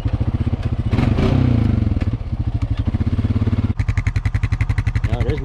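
A Honda 420 ATV engine, just repaired after a transmission failure, drones steadily while engine braking, with a pulsing, evenly paced exhaust note. The tone shifts partway through into a sharper, faster-ticking rhythm, loud and close.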